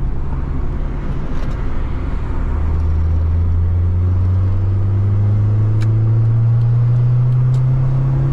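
A 1600cc 160 PS Honda Civic engine revs up hard toward 6000 rpm, its rising whine climbing steadily over a loud close rumble from inside the car.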